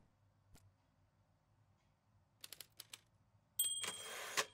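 Typewriter keys being struck in the video game Before Your Eyes, a handful of separate clacks followed by a dense burst of rapid typing with a ringing tone near the end, fairly quiet and with no voices.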